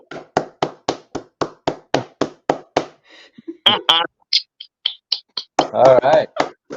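One person claps about a dozen sharp, evenly spaced times close to the microphone, then stops, and a voice talks over a few scattered taps afterward.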